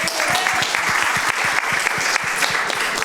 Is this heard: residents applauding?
yes